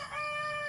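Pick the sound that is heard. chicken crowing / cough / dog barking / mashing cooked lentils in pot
chicken crowing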